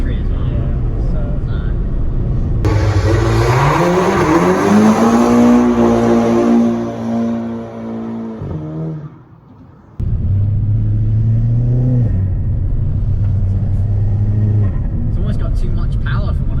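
A stage 2+ Mk5 Golf GTI Pirelli Edition making about 400 bhp accelerates hard from inside the cabin, engine note rising through the revs, dropping off at a shift, then pulling again, with people talking over it.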